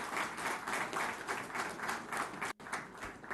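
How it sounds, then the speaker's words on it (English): An audience at an event at GMR airport in Hyderabad gives Minister K.T. Rama Rao a steady, dense round of applause, with many hands clapping at once, briefly cut off near the end and then resuming. "Can we have a round of applause for Shri K.T. Garu and his vision?"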